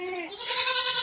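A goat bleats once at close range, a loud wavering cry that rises and holds for about a second with no voices over it.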